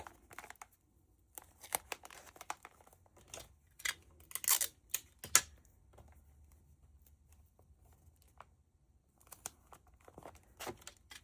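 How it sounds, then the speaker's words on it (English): Tape is pulled and pressed around cellophane wrapping on a DIY Valentine gift, heard as sharp intermittent rips, crinkles and rustles with quiet gaps between them. "Now I'm going to tape it."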